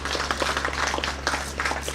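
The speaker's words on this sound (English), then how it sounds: "Give yourself an applause." An audience in a packed hall claps for the organizers of a Rotary program. The applause is dense and steady, with many hands heard over a low hum.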